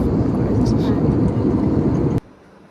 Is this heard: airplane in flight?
yes